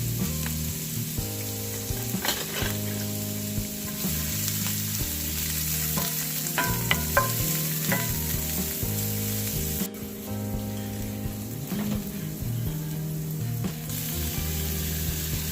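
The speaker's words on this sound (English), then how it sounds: "chopped carrot, and saute those around and let them get a little bit soft" Chopped carrots sauté in a cast iron skillet, giving a steady, fairly loud sizzle and fry with occasional stirring scrapes and clinks, close up and without any talk.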